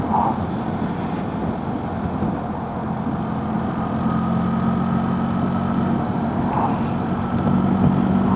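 A car engine running steadily in fifth gear, a continuous low droning hum with a faint whine above it, holding an even level throughout without gear changes.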